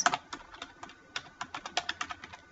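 Rapid typing on a computer keyboard, a quick irregular run of crisp key clicks with short pauses, close and moderately loud with no voices.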